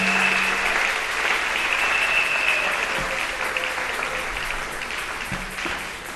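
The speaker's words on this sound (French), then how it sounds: "Et nous pouvons donner une louange d'acclamation." Church congregation applauding in praise, loud dense clapping from a large gathering that continues steadily throughout, with a faint tone and low background sounds beneath.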